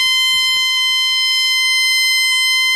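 A homemade electronic buzzer circuit sounds a piercing, continuous high-pitched tone, loud and steady from start to finish with faint handling noises underneath.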